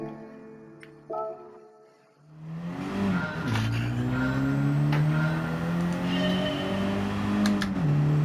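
A front-engine, front-drive car laps a track in Gran Turismo 7. The engine revs up after a quiet start and settles into a steady rising whine through the gears, with short dips at the shifts.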